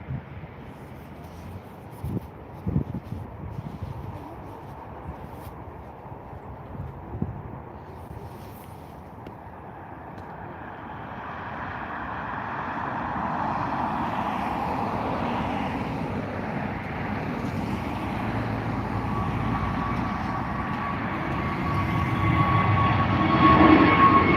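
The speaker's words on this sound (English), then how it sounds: "It is now beginning its takeoff over to Paris Orly." A Transavia airliner taking off from Dublin Airport for Paris Orly: a low rumble that swells steadily into a loud, sustained engine roar over about twenty seconds, heard alone without talk.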